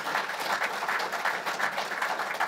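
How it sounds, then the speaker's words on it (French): Steady, dense applause from a crowd, continuous clapping filling the whole stretch at a fairly even level. "je vais vous applaudir juste pour ça"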